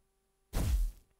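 A slap attack hits in the video game Cassette Beasts, a single loud, dull thwack with a short whooshing tail, alone with no talk.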